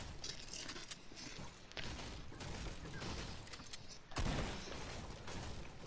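Gunfire in Fortnite crackles as a steady dense fusillade with a heavier burst near the end, played at fairly low level and alone with no talk.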